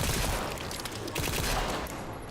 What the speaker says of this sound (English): So apparently I have a triple burst shotgun